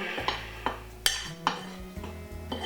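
A metal spoon stirs a green tomato mixture in a pot, with several distinct clinks and scrapes against the sides in an irregular rhythm over a low background hum, close and fairly loud.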